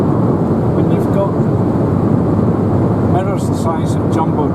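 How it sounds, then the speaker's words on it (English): Steady wind roar inside a Ford Ka cabin while driving on a busy road, loud and constant throughout, with a voice talking over it in the second half. "Quite a bit of wind noise"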